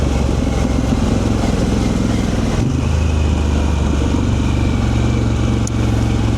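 A Harley-Davidson Pan America motorcycle on the move, its engine a loud, steady, close rumble that runs continuously with a slight shift partway through, with wind noise and no speech.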